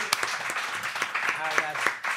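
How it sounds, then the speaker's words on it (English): Studio audience applause on the Impulsive podcast, a brief burst of clapping from a small crowd, close and moderately loud, mixed with voices. "Can we get a round of applause?"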